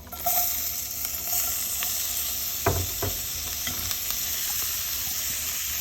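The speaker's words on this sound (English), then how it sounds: "So we're adding our onion, our garlic, our bay leaves, and thyme." Onion, garlic, bay leaves and thyme hit a hot pot for a seafood boil pasta, giving a steady close sizzle with a few short bursts of louder crackle partway through, and no talking.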